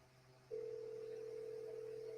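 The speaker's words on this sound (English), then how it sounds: "we hear it ringing" A steady electronic tone comes through on a call-in show's phone line, starting abruptly about half a second in and holding at a constant pitch over a low hum.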